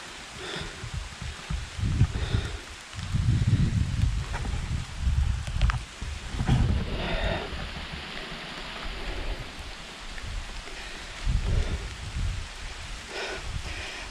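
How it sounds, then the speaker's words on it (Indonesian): Light drizzle falls with steady dripping water beside a tall cliff at a historic hillside cave, a soft patter broken by irregular nearby drops and low rustles. "ditemani dengan gerimis yang melanda, yang terus gemericik gitu ya airnya"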